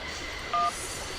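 A single short phone keypad tone beeps in the Syberia video game, a clean electronic dial tone lasting a fraction of a second over a noisy background.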